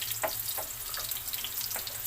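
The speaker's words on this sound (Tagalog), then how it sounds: "Gigisa ko itong una ang bawang" Garlic sautéing in a hot pan, the first step of a green mango and shrimp paste dish, gives a steady close sizzle with faint clinks of stirring throughout.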